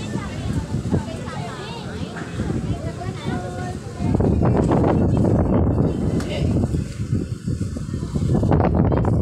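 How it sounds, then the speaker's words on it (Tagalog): Strong wind buffets the microphone in gusty, roaring bursts that grow heavier and louder partway through, with a voice talking under the rumble. "Lakas ng hangin."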